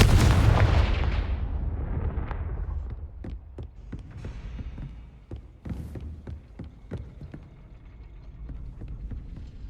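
A Confringo fire spell in the Hogwarts Legacy video game bursts with a loud, booming blast at the start, then a string of sharper impact cracks and thuds rings out under continuing rumble.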